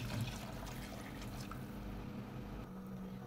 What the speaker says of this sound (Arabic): هلا بنزل عليها بالمي المغلية